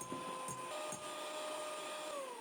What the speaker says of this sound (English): I'm going to use an electric hand mixer and beat this until it's nice and frothy